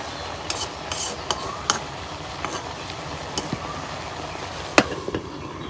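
Flat beans fry in a pan under a constant low sizzle, while a spatula stirs them with light, irregular scrapes and sharp clicks against the metal.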